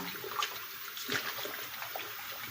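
Cold tap water runs faintly while food soaks in a vinegar and pink salt mix during soul food preparation, giving a soft, uneven trickle and splash with no voices.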